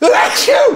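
A single sharp sneeze bursts out between quick spoken words, loud and close.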